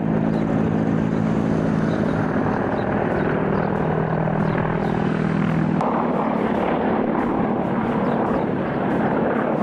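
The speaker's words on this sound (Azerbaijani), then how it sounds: "Videoda Mi-24, K-52 və Mi-28 helikopterlərinin döyüş tapşırığı ilə uçuşu əks olunub" Military attack helicopters, Mi-24, Ka-52 and Mi-28, flying on a combat mission, a loud continuous rotor and engine roar with droning hum that shifts partway through, no voices heard.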